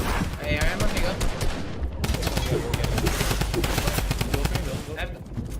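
Rapid assault rifle fire in a video game match, loud and near in long continuous bursts, with a brief pause and players talking faintly underneath.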